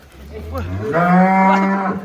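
Giant cattle moo loudly and close while being loaded onto a truck, one long, rising bellow with a strong harmonic tone lasting about two seconds.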